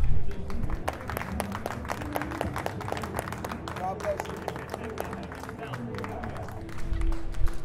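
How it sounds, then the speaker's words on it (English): An audience claps for the game's maker in a crowded room, with sharp, scattered hand claps over babble and people talking close by, the applause swelling again near the end. "I would love it if y'all just gave Victor a round of applause because he made this game."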